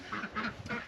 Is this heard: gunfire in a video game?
no